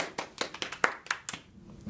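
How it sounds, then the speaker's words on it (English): At a school news show, a small audience gives a quiet, brief round of applause: a handful of separate claps in an uneven rhythm that fade quickly. "So let's give her a round of applause."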